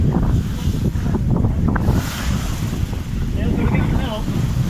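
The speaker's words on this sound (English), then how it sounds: "These waves are pretty large." Strong wind buffeting the microphone aboard a sailboat making about 5.5 to 6 knots through large waves, a loud, steady roar with water rushing along the hull and a voice speaking briefly.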